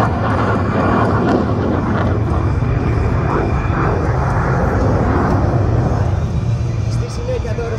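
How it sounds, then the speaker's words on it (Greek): A Hellenic Air Force F-16 of the Zeus demo team roars past low at the Tanagra 2024 air show, a loud, steady broadband jet rumble sustained throughout with a public-address voice talking over it. "Στη συνέχεια το αεροσκάφος επανατοποθετείται για μια διέλευση ψηλής σταθερότητας σε πολύ χαμηλό ύψος"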